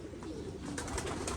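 A pigeon coos softly a few times, low and nearby in a quiet setting.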